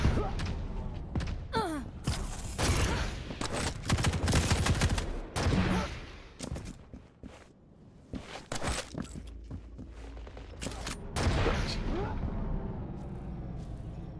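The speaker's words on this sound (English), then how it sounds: "Nice drop down into a railgun shot." Railgun shots and other weapon fire in a Quake Champions duel arrive as sharp, loud bursts scattered across the stretch, with thuds and movement sounds between volleys and no talking.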